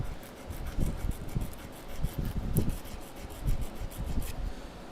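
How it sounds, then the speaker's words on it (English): A copper coffee scoop is sanded by hand with a scrap of 80 grit sandpaper in a blacksmith shop, giving close, rhythmic rubbing strokes that rise and fall about once a second, with no one speaking. "This is just a scrap piece of 80 grit sandpaper."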